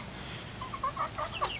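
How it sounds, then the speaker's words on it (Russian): Chickens and roosters give a few short, soft clucks at a distance, a brief scatter of calls over a faint steady outdoor hiss. "Вот эти петухи."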